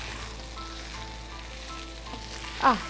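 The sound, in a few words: chili powder and chili flakes frying in hot oil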